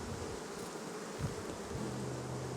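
Honey bees buzzing around an open hive, a dense continuous drone with individual bees passing close, one steady low tone emerging toward the end.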